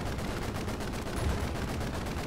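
M2 Browning heavy machine gun in a World War II D-Day video game, firing a continuous fast stream of rounds that blur into a dense roar throughout, loud and unbroken.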